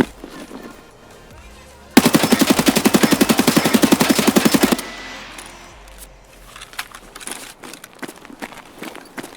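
A Kedr submachine gun in the game Escape From Tarkov fires one rapid sustained burst of about three seconds, loud and close, followed by footsteps and light handling noises.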